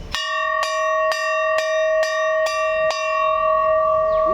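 Temple bell struck seven times in an even, quick rhythm, each bright metallic strike ringing on into a long sustained hum that fades at the end, loud and close with no voices.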